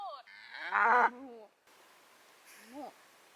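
A cow in the Madeira countryside gives a long, loud, close moo, then a second softer, shorter call a moment later against quiet outdoor background.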